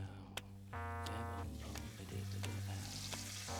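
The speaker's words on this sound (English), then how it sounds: "Just want the oil nice and hot so that it browns all the outsides of each cube" Cubes of meat sizzle and crackle in hot oil nearby as they brown, a steady frying hiss with occasional sharp pops and a low hum beneath.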